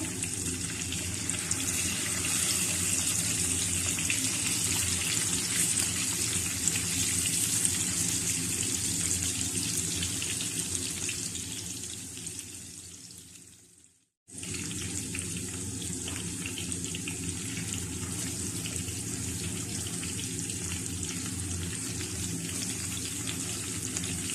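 Mutton chops sizzling steadily in a frying pan for an Eid recipe, a continuous hiss and crackle with a brief break midway, no talking.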